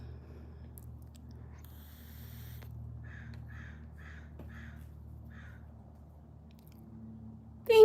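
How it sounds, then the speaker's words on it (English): A crow calls outdoors in the morning, several short, evenly spaced caws in a quick series, moderately faint over a low steady background hum, with a sudden loud noise right at the end. "I thought that was just a crow."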